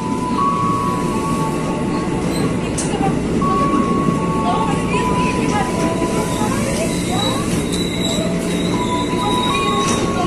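A KRL commuter train at Tanah Abang station rumbles loudly and steadily, with thin squeals from the wheels drifting in and out over the noise.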